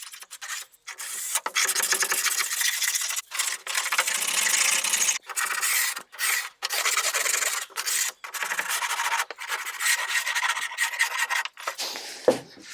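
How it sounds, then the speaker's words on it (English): Old paint being scraped off a wooden cupboard, with long rasping strokes in a steady rhythm broken by short pauses, loud and close, and no voices. "This was the easiest scraping I've ever done."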